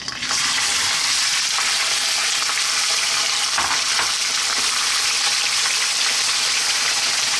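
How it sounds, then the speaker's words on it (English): Lamb meat sizzling in a pan over high heat for a curry, a loud continuous crackling fry with occasional stirring, close up and with no talking. "cook our meat for about 5 or 6 minutes on a high heat, just to get it started"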